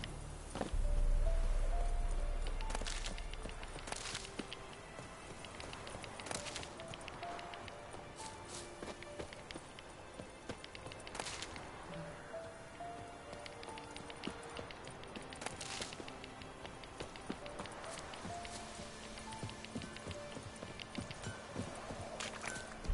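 Horse hooves clip-clop steadily on the ground in The Witcher 3 as the mount walks at a slow pace, a continuous run of close hoof falls over quiet ambient game sound.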